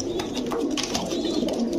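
Pigeons coo softly and repeatedly nearby, low rolling calls overlapping one another, with light rustling in the background.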